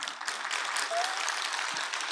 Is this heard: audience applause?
yes